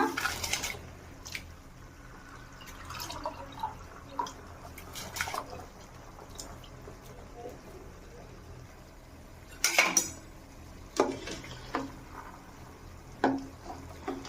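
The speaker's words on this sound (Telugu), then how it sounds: "ఇప్పుడు బియ్యం అయితే వేసుకుంటున్నా." Rice is tipped into a pot of boiling water with a little oil for veg corn biryani, with scattered metallic clinks and splashes over a low bubbling bed, louder clatters near the middle and end.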